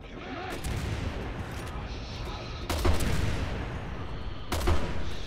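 A grenade launcher fires repeatedly in the Resident Evil 6 video game: three heavy booming blasts roughly two seconds apart, each with a sharp crack and rumbling tail, over continuous dense combat noise.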